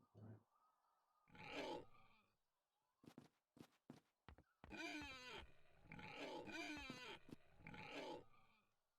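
Pigs grunt and squeal in several bursts with short gaps in The Dark Eye: Chains of Satinav, interspersed with sharp clicking thuds, fairly close with little else around.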